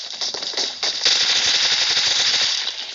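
Sustained rapid automatic fire from a Thompson submachine gun in the PUBG video game, a dense, loud, continuous burst with a brief dip before intensifying and holding steady.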